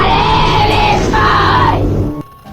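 Loud screams, yells and shouting recorded at night by a fixed security camera in a nun's room, a dense chaotic burst of voices lasting about two seconds before cutting off abruptly into near silence.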